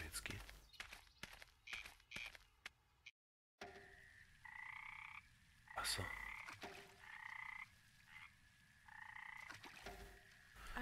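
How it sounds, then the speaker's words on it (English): Frogs croak in repeated rhythmic bursts at a swamp lake in the video game Memoranda, close and clear, alongside footstep sounds and a brief spoken word. "To bed and hearing frogs singing in the pond."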